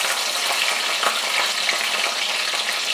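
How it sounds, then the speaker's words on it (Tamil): Mustard seeds, urad dal and chana dal frying in hot oil, a dense continuous sizzle with scattered popping crackles, steady and close, no voices. "கடுகு நல்லா இப்படி பொரியது, கொஞ்சமாக உளுத்தம்பருப்பு, கொஞ்சமாக கடலைப்பருப்பு"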